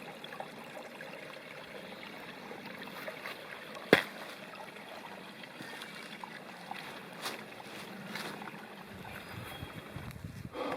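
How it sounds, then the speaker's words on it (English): Running water in a stream beside a hiking trail near Lost Cove, heard as a steady, fairly soft outdoor rush with one sharp click partway through and faint rustling toward the end. "all of a sudden I heard water. So we have water. You can hear it."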